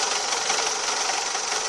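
Knocking, rattling engine noise from a Renault Megane 2 after a clutch replacement, a steady dense mechanical clatter running without a break, close and fairly loud, with no voices.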